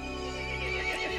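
A horse in the video game Resident Evil Village neighs in a drawn-out, wavering whinny, close and clear, with a faint clopping underneath.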